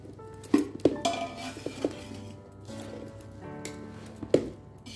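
Clinks and scrapes of mango pickle pieces being mixed with spice powders in a large vessel, loose clattering knocks at an uneven pace, close by with no talk.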